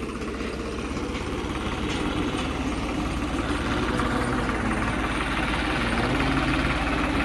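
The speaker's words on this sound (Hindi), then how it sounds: "अभी ट्रैक्टर को साइड में लगा देते हैं।" A tractor engine idles close by, steady and rumbling, with a low continuous drone and faint vibration throughout, no voices.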